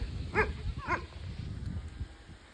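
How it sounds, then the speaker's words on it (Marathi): A dog gives two short barks, somewhat distant, over low rumbling background noise. "आमच्या चुलत मामाचा कुत्रा आहे तो।"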